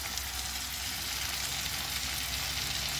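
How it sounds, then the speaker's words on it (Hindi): Marinated chicken hitting browned onions in a hot pan over high flame, giving a steady, dense sizzle that holds evenly throughout, close and alone without talk. "अब इसमें हम डालेंगे मैरिनेट किया हुआ हमारा चिकन"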